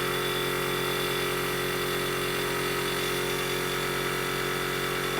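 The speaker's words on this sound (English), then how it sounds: "sorry about the noise of the compressor" A Sparmax Arism airbrush compressor runs close by with a steady, loud, buzzing mechanical hum that does not change for several seconds. No voices are heard.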